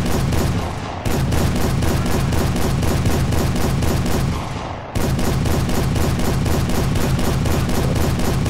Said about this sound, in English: Why did they put a Gatling gun here?